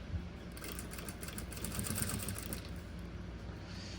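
A sewing machine runs slowly and steadily, stitching the seam of a fabric document holder, with a close, even mechanical whir and no talk.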